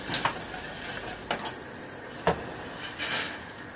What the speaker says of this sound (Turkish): Şeker eriyene kadar karıştıralım.